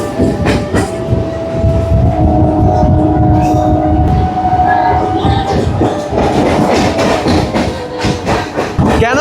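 A Howrah–Digha local train runs at speed past stations, its loud steady rumble, hum and clattering wheels filling the whole stretch, with faint voices now and then.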